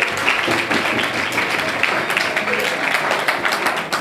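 An audience applauds at a football tournament draw, dense continuous clapping at an even level throughout, with voices mixed in beneath the noise.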